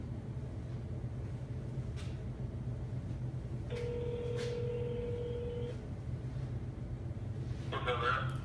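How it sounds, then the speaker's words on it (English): Telephone tones as a call is placed: a single steady electronic tone lasts about two seconds over a low, constant background hum, with a few faint clicks. "I gotta get Greg on the phone"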